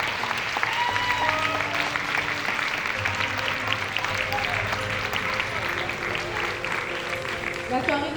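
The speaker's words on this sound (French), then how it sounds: "On peut l'applaudir encore." At a show finale, a crowd keeps up sustained applause, loud and continuous clapping filling the room while a voice talks over the top.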